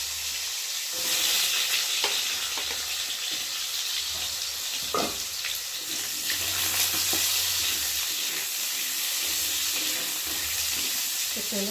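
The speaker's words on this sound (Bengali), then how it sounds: "আলুগুলো ভেজে নেব, অল্প একটু তেল দিই।" Potatoes frying in a little oil in a home kitchen pan, a steady close sizzle running throughout with occasional stirring clinks and brief tap-water sounds, no talking.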